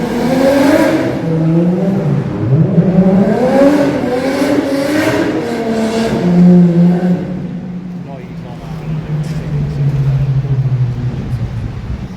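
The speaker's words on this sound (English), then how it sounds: "I have to try to fix Harold's exhaust. Fell off" A car with its exhaust fallen off revs loudly nearby, the engine rising and falling in pitch with a raw, throaty drone, while someone talks over it throughout.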